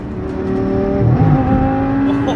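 An Audi R8 V10 engine roars and builds as it accelerates, a loud throaty drone rising in pitch, close by with no voices.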